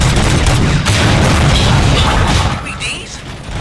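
Gunfire and booming blasts in the video game Robocop: Rogue City, a loud dense burst of shots and impacts filling the first couple of seconds, then easing off with a voice talking over it.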